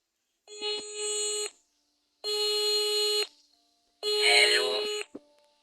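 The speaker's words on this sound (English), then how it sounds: "Pick up the phone and dial the number" A telephone in the Cube Escape video game sounds three long electronic tones of about a second each, separated by pauses, clear and fairly close.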